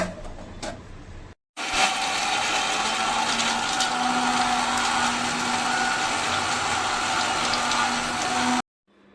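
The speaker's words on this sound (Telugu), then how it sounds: "ఫస్ట్ మనం పచ్చిమిర్చి, పల్లీలు మిక్సీ పట్టేద్దాం." Mixer grinder whirring loudly as it grinds green chillies and peanuts, starting after a short pause with a steady high-pitched motor drone and rattling blades for about seven seconds, then stopping abruptly.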